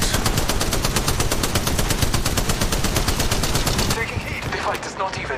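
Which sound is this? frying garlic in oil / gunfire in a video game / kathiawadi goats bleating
gunfire in a video game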